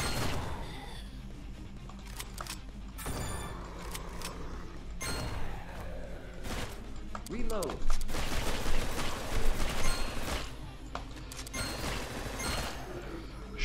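Machine gun fire in the rail shooter video game Dead Containment: dense, sustained bursts of rattling gunfire with mechanical clanks, loud and continuous, mixed with other game effects.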